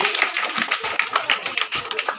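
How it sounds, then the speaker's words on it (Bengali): A group of children clapping hands at a Teachers' Day celebration indoors, scattered quick claps and taps in an uneven rhythm with faint voices underneath. "সবাই হাততালি দাও।"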